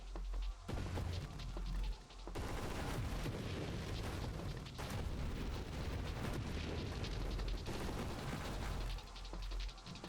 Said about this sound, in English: Loving the noise on these shots now.